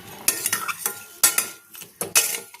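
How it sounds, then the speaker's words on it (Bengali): A spoon stirs sugarcane jaggery in a pan for sesame peanut barfi, giving a few close, sharp scrapes and clinks against the metal in short, uneven strokes with no talking. "এবার গുড়টা নাড়াচাড়া করব"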